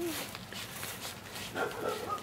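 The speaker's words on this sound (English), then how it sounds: "Oh, that's a puppy." A puppy gives a few soft, high yips and whimpers amid a faint background murmur of people, the calls brief and fairly quiet rather than full barks.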